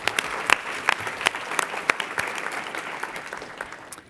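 An audience at a school health award ceremony claps together in a lively burst, many hands at once, with sharp individual claps standing out before the applause gradually thins and fades.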